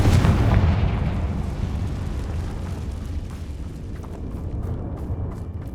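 A Confringo spell detonates in the Hogwarts Legacy video game with one heavy, loud blast at the start, then a long rumbling decay that fades into crackling debris and faint ambient noise.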